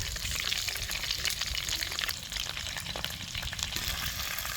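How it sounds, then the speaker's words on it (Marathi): Spice-stuffed eggplants dropped into hot oil, a dense, loud, crackling sizzle that holds steady throughout at close range. "आता ही तेलात वांगे टाकल्यावर की नाही तेलाचा चरका बसतो"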